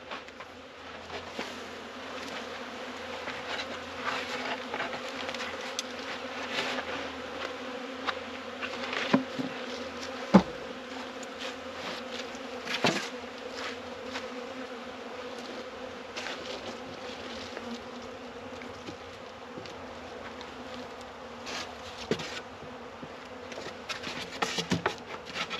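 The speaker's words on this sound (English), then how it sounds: "There's a lot of bees in this one." Dense swarm of honey bees buzzing around an open hive during winterization, a constant close droning hum with occasional louder passes as individual bees fly near.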